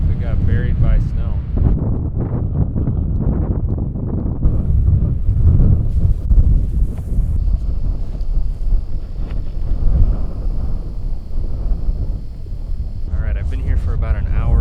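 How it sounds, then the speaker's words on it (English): Strong wind roars across a frozen lake during solo ice fishing in blowing snow, a loud continuous buffeting rush close to the microphone that persists throughout, with someone talking over it. "The wind is still picking up"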